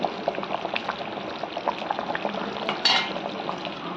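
Mutton kola urundai balls with chana dal frying in oil in a pan, a steady soft sizzle with light stirring clatter throughout and a brief louder burst of crackle near the end, no voices.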